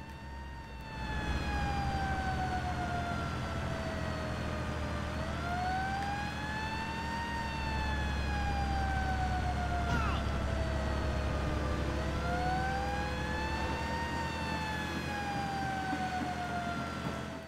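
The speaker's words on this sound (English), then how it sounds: "I have sirens on." A fire truck siren in the video game Lego City Undercover wails continuously, rising and falling in long sweeping cycles over a low engine rumble.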